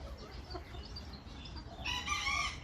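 A Ko Shamo rooster crows once near the end, fairly close, after a stretch of quiet clucking and background noise.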